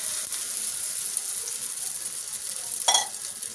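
Beaten egg and onion mixture sizzling in hot ghee on a griddle, a soft continuous frying hiss with a brief sharper scrape or splutter near the end.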